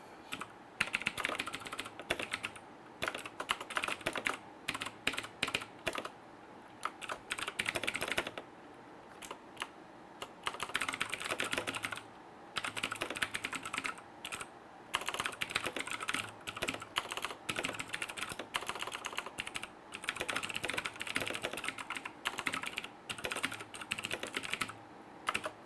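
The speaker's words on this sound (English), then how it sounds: "Oh, so I gotta type it." Someone types on a computer keyboard in quick irregular bursts of clicking keystrokes, with short gaps between runs, close and fairly quiet, no voices present.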